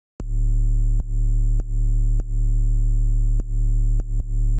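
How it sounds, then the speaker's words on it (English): Sustained Cymatics 808 sub bass sample for an electronic drop, a deep steady low tone held alone with several short retriggers and dips. "Then we've got this sub from Cymatics, which I use for the sustain."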